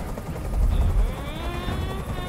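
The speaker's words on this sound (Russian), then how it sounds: "Как же меня бесит этот звук! Прикажи им, чтобы вертолет убрался!" A helicopter hovers in the video game Detroit: Become Human, giving a steady, loud, low rotor rumble that fills the whole clip with no talking.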